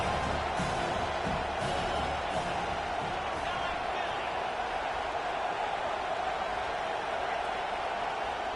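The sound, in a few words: home crowd cheering at Penn State football game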